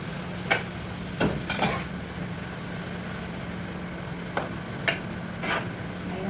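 Tomatoes being stirred into sizzling chicken in a pan, a steady close frying hiss with scattered spoon scrapes and clinks, no talking.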